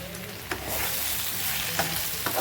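Potato mixture with turmeric sizzling in a pan as it is stirred, with continuous frying hiss and a few sharp spoon scrapes and taps, close and steady.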